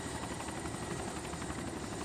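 Helicopter in the survival video game DayZ Epoch, a steady loud rotor and engine drone that fills the whole stretch without a break, with no voices over it.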